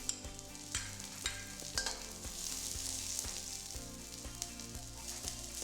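Garlic, white spring onion parts and carrots sizzle and fry in an oiled pan, a steady hiss broken by repeated scraping stir strokes, close and moderately loud with no talking.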